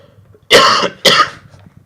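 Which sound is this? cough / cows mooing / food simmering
cough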